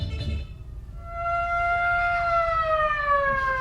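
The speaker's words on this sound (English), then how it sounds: "Literally just blowing an air siren in this little girl's face." An air siren blown at close range gives a loud, steady rising-and-falling wail with layered harmonic tones that glide slightly downward and hold for several seconds after a brief rumble of breath noise.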